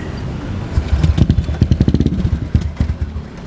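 A bore-up Honda Vario motorcycle engine, freshly washed and cold, sputters close by with an uneven, pulsing low chug as it tries to start and settle toward idle.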